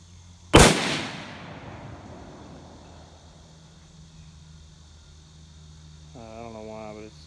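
A single loud, sharp rifle shot from a Mossberg MVP LR .308, fired outdoors, with a long fading echo rolling out afterward and a short bit of voice near the end.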